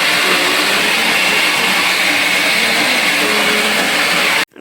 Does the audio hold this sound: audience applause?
no